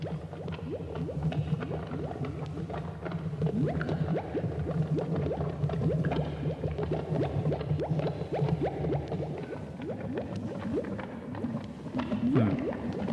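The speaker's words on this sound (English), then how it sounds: "Yeah, it's bubbling." Bubbling sound effect from a Halloween sounds tape, a steady low gurgling churn that keeps going at even loudness, with no voices.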